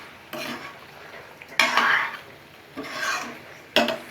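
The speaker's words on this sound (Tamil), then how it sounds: "தேவையான அளவுக்கு உப்பு போட்டுட்டு அகெயின் வந்து மறுபடியும் கலந்துடலாம்." A spoon stirs quail gravy in a pan after salt is added, giving four separate scraping, rasping strokes against the pan with brief pauses between them, close and fairly loud.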